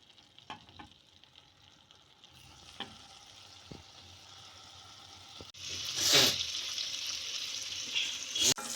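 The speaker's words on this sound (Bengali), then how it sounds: "এবার সাদা তেল আর একটা বাটার দিয়ে দেব। একে একে পনিরগুলো ভেজে তুলে নিতে হবে।" Paneer pieces fry in white oil and butter in a hot kadai, a quiet sizzle with occasional spoon taps that swells into loud, crackling frying midway.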